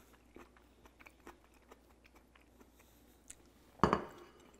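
Someone bites into a piece of sweet and sour pork, with quiet faint clicks of cutlery and dishes first, then one close, crisp crunching bite near the end, with no talking.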